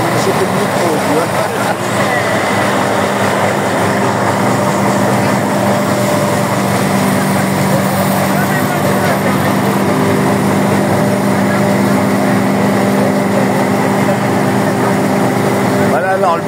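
Vintage threshing machine running at an old-style harvest demonstration in Saint-Cyr-des-Gâts, Vendée, a loud continuous mechanical drone and rattle with steady engine hum throughout, with crowd noise blended in.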